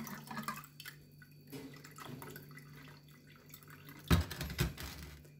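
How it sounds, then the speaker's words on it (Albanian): Excess water is poured out of a pot while making pear compote, giving soft splashes and drips, with a brief louder gush near the end and quiet kitchen sounds around it. "I derdhim pjesën e tepër të ujit."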